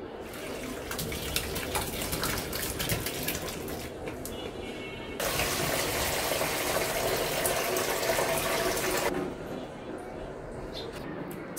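Vinegar-split chhana curds and whey pour through a strainer for homemade sponge rasgulla, a steady liquid gush and splash that swells louder midway, then eases back.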